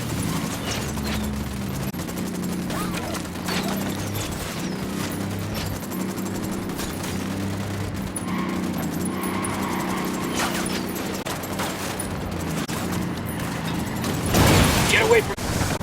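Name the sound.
gunfire in the video game Ghost Recon Wildlands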